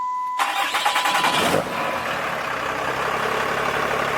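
A Cummins diesel truck engine cranks briefly and catches, then settles into a steady, loud idle that keeps running.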